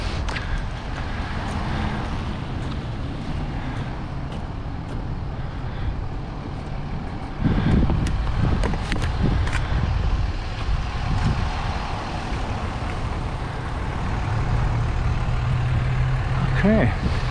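Diesel trucks idle with a steady low rumble throughout, a louder surge of engine noise rising midway, and occasional clanks and traffic sounds nearby; someone talks intermittently over it.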